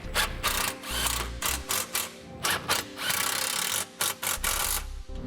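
A hand ratchet works bolts loose from the center exhaust hanger beneath a 2016 Nissan Altima, giving repeated close, loud bursts of rapid clicking separated by short pauses.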